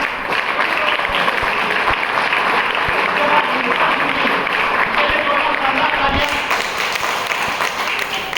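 A dense, loud crowd applause fills an Ayurveda seminar hall, steady and sustained throughout with a few louder taps, with no pause in the clapping.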